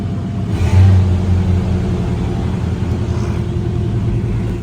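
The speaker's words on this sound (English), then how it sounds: "And it accelerates." Square-body truck engine picking up speed as cruise control resumes, a steady low rumble with a slight swell early on, heard from inside the cab with no talk.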